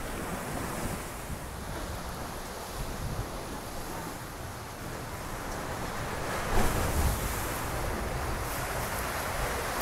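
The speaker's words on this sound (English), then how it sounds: "I love just the sound of the waves." Ocean waves breaking below the Algarve cliffs, a continuous roaring surf with wind buffeting the microphone, one louder surge near the end, no talking.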